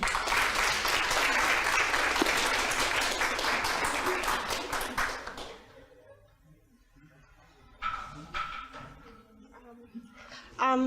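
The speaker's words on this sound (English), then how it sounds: "So I just want to applaud the four of you" Sustained, dense audience applause fills a women's leadership event hall for about five seconds and then fades, leaving quiet murmurs, brief laughter and speech afterward.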